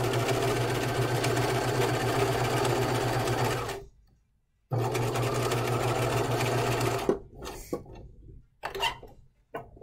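A sewing machine stitches a Hanten jacket mockup in two long steady runs separated by a short pause, followed by quicker stop-start bursts, close and loud with no talking.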